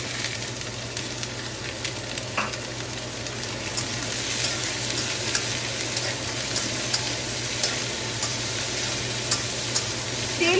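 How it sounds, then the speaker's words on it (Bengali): Chopped onion frying in a modest amount of oil with ginger and garlic, giving a continuous close, even sizzle with faint stirring scrapes throughout. "এবার এটাকে একটু নাড়িয়ে নিয়ে এতে পেঁয়াজ কুচনোটা দিয়ে দিচ্ছি।"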